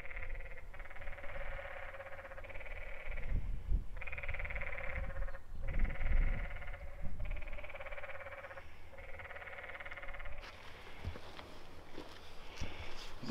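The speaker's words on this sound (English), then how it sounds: "Hear the tree frogs talking to each other?" Tree frogs call along a rocky trail in Zion National Park, a series of repeated bleating, sheep-like pulsed bursts in steady rhythm, fairly close, before the calls stop and footsteps and trail noise take over.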